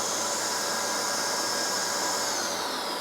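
A dust extractor runs steadily, a loud, even roar of rushing air with a high whine and no pauses.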